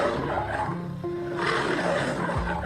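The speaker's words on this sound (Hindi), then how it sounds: "तभी उसे शेर की आवाज सुनाई दी" A lion roars in a jungle, a loud, rough, sustained growl that swells and holds for a couple of seconds with no talking over it.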